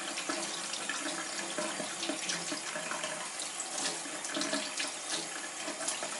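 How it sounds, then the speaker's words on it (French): Tap water pours steadily into a sink while paintbrushes are rinsed under the stream, a continuous close splashing hiss that runs alone throughout. "je peux aussi tourner comme ça avec l'eau qui coule"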